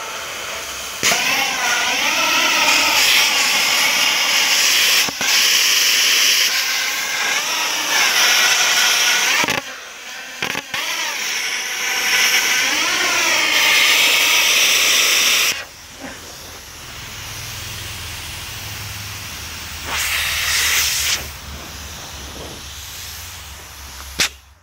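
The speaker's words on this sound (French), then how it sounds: "on appuie sur la gâchette, ce qui va permettre de découper la ferraille" A plasma cutter slicing through scrap metal: loud bursts of harsh hissing and roaring air, cut into several blasts separated by short pauses, with a lower hum between the bursts.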